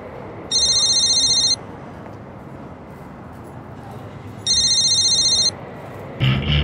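A telephone rings in two separate bursts, each a bright electronic trill of about a second with a quiet pause between them, followed by a short thump near the end.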